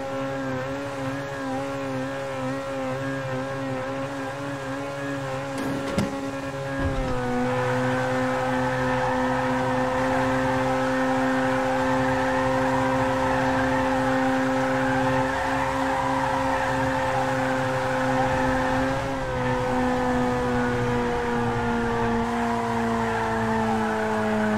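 Powerful SUV engines from GTA5, including a BMW X5, Mercedes G63 and military Humvee, drone and rev steadily while climbing a hill, a loud sustained roar with a brief pitch dip midway and a slight drop near the end.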